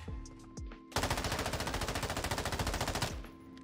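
M13B assault rifle firing in Modern Warfare 2, a few lead-in shots then a sustained rapid automatic burst of about two seconds, loud and close with a clean, dry crack and no talking.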